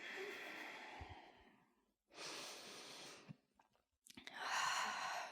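Slow, deep breathing during a morning yoga stretch: three long, close, airy breaths separated by short pauses, heard alone without talk.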